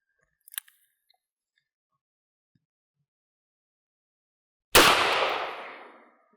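A single sharp gunshot from a .22 Magnum firing CCI Maxi Mag 40-grain hollow points, loud and close with a decaying echo, preceded by a few faint clicks in near silence.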